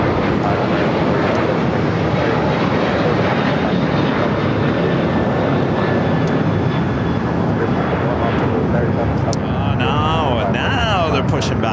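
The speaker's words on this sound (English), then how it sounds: "Now they're pushing back that Qantas A380 Super" Qantas A380 Super being pushed back at LAX, heard as a loud, continuous jet-engine roar that fills the whole stretch, with voices faintly present under it.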